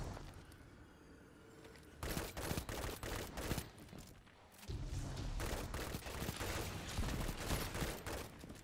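Claws of the Wolf pulse rifle firing in a video game, fast repeated bursts of sharp shots starting after a quieter lead-in and continuing steadily and loudly to the end.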